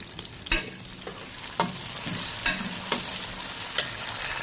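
Onions, tomatoes, green chillies and cumin fry in a pot for beef pulao, a steady close sizzle punctuated by several sharp spatula knocks and scrapes against the metal.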